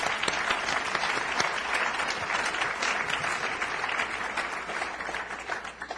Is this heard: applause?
yes